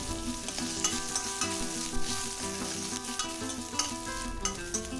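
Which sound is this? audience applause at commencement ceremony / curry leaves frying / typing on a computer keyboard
curry leaves frying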